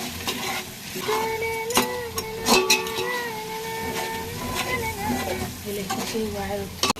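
Steady sizzling from a hot pot as coriander leaves are stirred into bagara rice, with stirring clatter and a few sharp metallic scrapes, close and continuous throughout.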